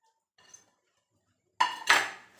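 Dough for puttu being mixed in a bowl, giving a short scrape and clatter of utensil against the bowl, with a faint touch early on and a louder burst near the end.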